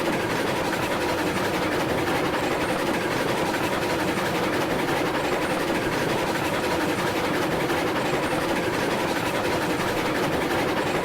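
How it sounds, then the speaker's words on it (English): A train rolls steadily in the Railroads Online video game, giving a loud, continuous rumble of wheels on track with a low mechanical drone. The sound holds an even level without a break. "release the brakes on the train. It will roll by gravity back in the direction you want it to go"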